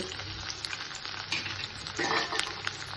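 Tempering of dried red chilli pieces sizzles in hot oil in a pan while mango roti pachadi is being made, a steady crackling fry that continues without talk.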